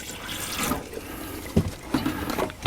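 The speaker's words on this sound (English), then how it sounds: "we're just going to go ahead and pour some antifreeze through." Antifreeze poured from a jug into an RV sink drain: a steady, splashy liquid wash with a few sharper gurgles and knocks near the end, close and moderately loud, with no talking.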